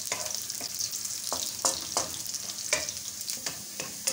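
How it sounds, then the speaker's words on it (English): Onions fry in a pan with a steady sizzle while a spoon stirs and taps the pan every half second or so, close and fairly loud, with no one speaking. "You cook your onions until they are golden brown."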